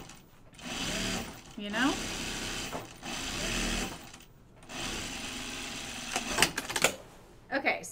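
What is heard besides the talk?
sewing machine stitching a side seam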